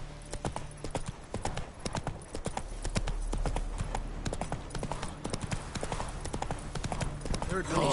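Hooves of the horse Roach pound in a quick, steady gallop in a video game, close and prominent, with a voice talking over the hoofbeats.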